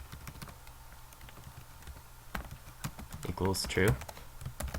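Rapid keyboard typing clicks away steadily while code is written in GameMaker Studio for an inventory system, with someone talking over the keystrokes throughout.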